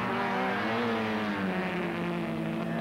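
Mini 850 race cars at Mondello Park in 1981 battling for the lead, their engines giving a continuous loud buzzing drone with layered revs that holds steady throughout.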